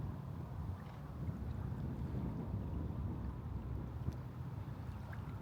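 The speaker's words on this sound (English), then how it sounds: "Kind of a windy day today, as you can tell." Wind blowing over Lake Balboa near its spillway area in Hot Springs Village, a faint, steady low rush with gentle buffeting against the microphone, continuous and without voices.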